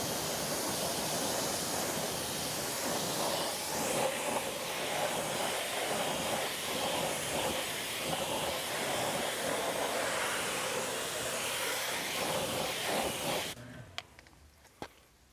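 A pressure-washer jet rinses foam wash off a car, giving a loud, steady hissing spray that runs continuously and then stops, leaving a few quiet knocks at the end.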